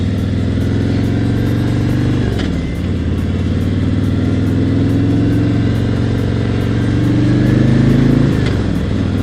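A Harley-Davidson Road King Special with the 107 engine rumbles loudly and steadily as the rider rolls on and off the throttle twice, the pitch dropping through a gear change and then climbing again.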